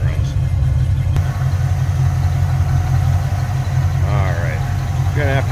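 A 1981 Chevrolet Camaro Z28 with a 350 V8 and aftermarket air cleaner idles steadily and close by, a low even rumble running throughout with brief voices over it.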